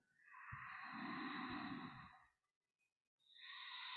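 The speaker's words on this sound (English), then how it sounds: "Listening to your Ujjayi breathing." Slow, audible Ujjayi breathing in a hatha yoga practice: a long, raspy, ocean-like exhale, a short silent pause, then the next breath rising, close and quiet with no speech.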